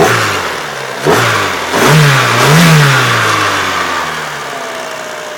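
An Opel Corsa C20XE car engine idles, then revs up twice in short bursts before settling back to a steady idle, close and fairly loud.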